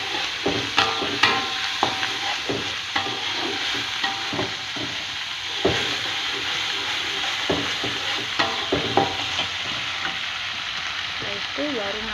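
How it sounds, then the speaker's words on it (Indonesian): Spice paste for an Indonesian chicken curry sautéing in a pan: a continuous hissing sizzle up close, broken by regular scraping taps of a spatula as it is stirred. "kita tumis bumbunya"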